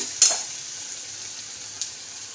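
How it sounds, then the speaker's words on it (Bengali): Onion frying in a pan for a masala tadka, a soft steady sizzle with two brief sharper crackles near the start and end, close and fairly quiet, no voices. "তো পেঁয়াজটা ভাজা হচ্ছে"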